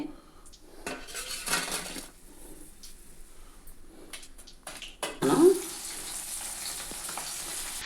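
Fried chicken pieces lifted out of a pan of oil onto a plate, close metallic clinks and scrapes of a utensil over a soft background sizzle, with a louder clatter near the end.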